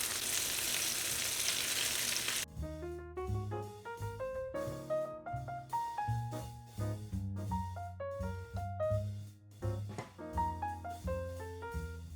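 Dumplings browning in a frying pan give a loud, dense sizzle for the first couple of seconds before a melodic music track takes over and covers the frying.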